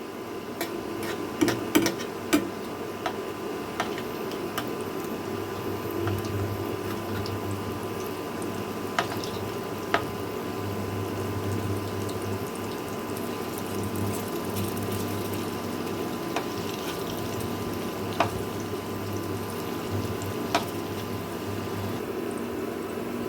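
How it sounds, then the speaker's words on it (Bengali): Small vegetable fritters (bora) fry in hot oil, giving a steady, even sizzle with scattered faint pops and spits over about twenty seconds, no talking. "এখন আমি এগুলাকে একটু উল্টে পাল্টে লাল করে ভেজে নেবো"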